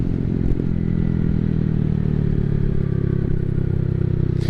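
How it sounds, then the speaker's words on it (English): A Honda Navi small motorcycle's exhaust drones steadily and loudly up close, a low rumbling engine note that holds throughout with rattling clatter and no speech. "I do like the way the exhaust sounds though."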